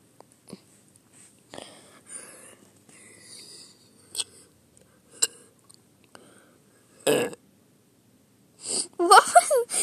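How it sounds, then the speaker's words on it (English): A person burps after eating ice cream and coffee while also having hiccups, several short soft throaty bursts spread among quiet gaps, with people talking nearby and a louder voiced sound near the end. "that's a burp"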